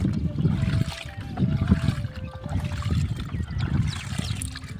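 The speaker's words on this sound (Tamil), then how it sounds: "இப்போ நம்ம ஊற்ற போகிறோம் 1 லிட்டர் இதில் பாதி" Liquid plant spray mixture poured from a jug, a steady close trickling and splashing that runs continuously for several seconds.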